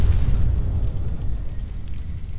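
A chemical bomb detonates in a movie scene, a deep heavy boom that hits at once and then rolls off into a long rumbling decay.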